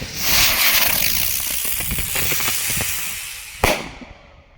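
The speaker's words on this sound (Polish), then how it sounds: "Ale naprawdę fajne motyle hukowe." Flying Banger CLE3544 flying firecrackers in a remote outdoor spot, with a loud hissing flight and a crackling run of pops, then one sharp bang before it fades.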